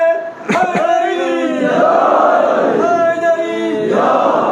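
A large crowd at a mourning gathering chants a loud collective response to the Nara-e-Haidari slogan, voices surging together after a short sharp call and sustaining as a massed, rhythmic shout.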